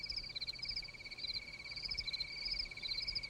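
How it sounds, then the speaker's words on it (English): Crickets chirping steadily in a quiet setting, two high-pitched trills pulsing continuously with a faint low rumble beneath. "that's right, crickets."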